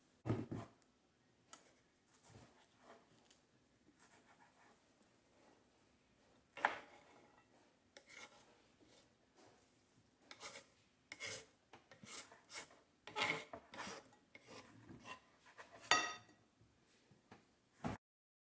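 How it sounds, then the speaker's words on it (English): A knife works through mangoes on a board, cutting them into square pieces with a run of short, irregular scraping and tapping strokes, close up and fairly quiet, with pauses between bursts. "And you cut the mangoes to square pieces."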